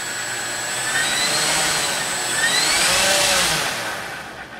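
A small model airplane motor drones steadily with a rough, grinding whine that swells and fades slightly, a continuous mechanical hum with no voices.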